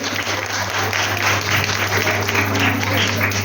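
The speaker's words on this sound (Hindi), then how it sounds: "तो एक बार जोरदार ताली तो बजा दीजिए" Guests at a festive family party applaud a newly arranged match, a loud stretch of clapping layered over a steady low hum and room noise.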